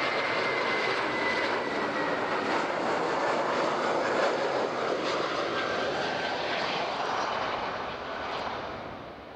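A fixed-wing airliner lands on runway 14 at Zurich airport with a loud, broad jet roar held steady for several seconds, then slowly fading as it passes.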